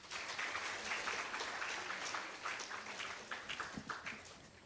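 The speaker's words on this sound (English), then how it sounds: "Please clap for him." An audience at a school book competition finale claps for a speaker being introduced, a steady, moderately distant round of applause that thins out toward the end.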